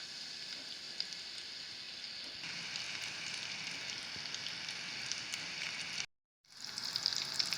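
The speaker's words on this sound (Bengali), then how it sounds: "এবার দিয়ে দিচ্ছি চিংড়ির চাপগুলো" Shrimp chops (chingri chaap) sizzle steadily in hot oil in a kadai, a loud even crackle that dips briefly to silence near the end before resuming.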